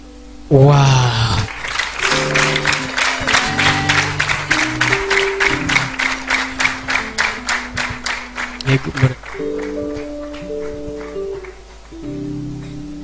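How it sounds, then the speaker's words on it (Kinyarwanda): An audience claps loudly at an album launch, a dense burst of applause that thins into scattered claps over a sustained musical backing, with voices around it. "Amashyi menshi mwakabyara mwe."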